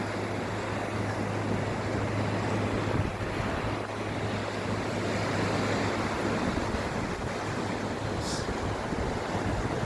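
Rough sea waves wash continuously against the shore in a high swell, a loud, steady roar with heavy wind buffeting the microphone throughout.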